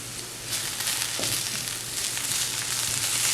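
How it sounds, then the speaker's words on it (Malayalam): Turmeric and pepper powder fry in oil with okra, a close, steady crackling sizzle with a brief stir partway through, no voices. "ഇനി ഇതിനകത്തേക്ക് മഞ്ഞൾപ്പൊടിയും കുരുമുളക് പൊടിയും ചേർത്തിട്ട് വീണ്ടും ഒന്നുകൂടെ മൂപ്പിച്ചാൽ മതി"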